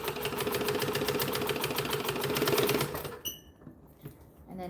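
A sewing machine runs in a fast, steady stitching burst on a bag, then cuts off abruptly for a brief back stitch and a few clicks and handling sounds, close and loud with no talking.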